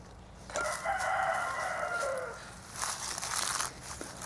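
Rooster crowing outdoors in Elizabethtown, Kentucky: one drawn-out crow, moderately distant and fairly faint over a rustling background, with another brief bird call following.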